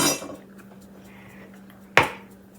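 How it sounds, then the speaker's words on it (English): A hot cast iron skillet is moved: a scrape at the start, a quiet pause with a low hum, then a single sharp metallic clunk as it is set down. "Go move this hot skillet."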